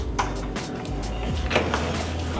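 A crew-only service door aboard the cruise ship Icon of the Seas swings open near a kitchen and buffet, a few short clunks and rattles over a steady low ship hum.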